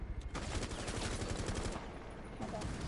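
Gunfire in the shooter video game Rainbow Six Siege rattles in rapid automatic bursts, dense and continuous, with a player's voice faintly underneath.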